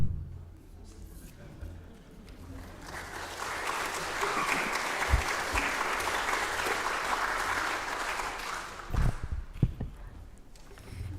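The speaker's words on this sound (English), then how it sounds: "She should definitely get applause for that" Congregation at a Sunday church service applauds, warm sustained clapping that builds after a quiet start, with a few louder thumps and voices near the end.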